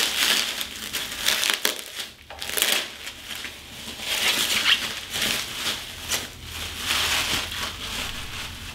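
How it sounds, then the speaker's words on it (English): Bubble wrap packaging being unwound from a road bike, close crinkling and crushing rustles that swell and fade in irregular bursts. "The bubble wrap goes around several times, so you may have to unravel."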